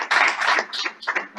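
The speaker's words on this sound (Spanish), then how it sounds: "Aplausos para él" Short burst of audience applause at a panel conversation on institutionalizing dialogue for conflict resolution: a few close, sharp claps for just over a second.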